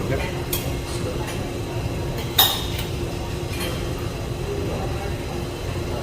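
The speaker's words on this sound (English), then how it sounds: "my water has started spilling out, so I'm just stirring it" A spoon stirring a pot of water in a cruise ship kitchen sushi class, with a few light metallic clinks, one sharper at mid-clip, over a steady busy room hum.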